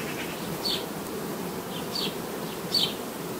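Honey bees buzzing on a hive frame in summer, a soft steady hum with a few brief louder passes as single bees fly close, and no one speaking.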